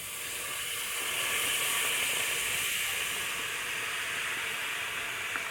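Callaloo and salt fish sizzle in a hot pot, a steady close hiss of steam and frying that holds evenly throughout.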